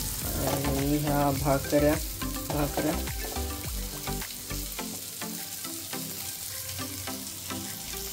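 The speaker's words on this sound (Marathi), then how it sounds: "त्याचा इथे फ्राय होतोय मस्तपैकी आपला." Small ekru and narbi fish frying in a pan outdoors at a dam in the Konkan, a dense continuous sizzle heard close by, with someone talking over it at the start.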